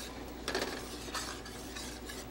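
A spoon stirs milk into browning gravy in a pan, making a few soft scraping strokes, quiet and close.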